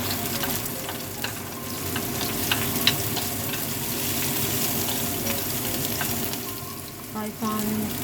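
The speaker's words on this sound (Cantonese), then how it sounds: "跟住煎下佢" Salmon slices sizzle steadily as they pan-fry for a soup, a continuous close frying hiss with light stirring clatter and a brief utensil clink near the end.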